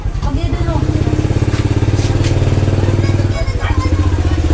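A motorbike engine putters loudly and close by on a busy street in Camarines Sur, Philippines, with a steady pulsing rhythm that dips briefly near the end, while a voice talks over it.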